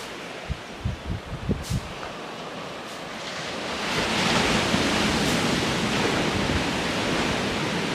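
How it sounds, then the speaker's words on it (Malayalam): Sea waves surge and roar beside a steep rocky cliff, a steady, loud wash of noise that swells and thickens after a few seconds, with a few dull thumps early on. "മറുവശത്ത് ആർത്തിരമ്പി വരുന്ന കടൽ"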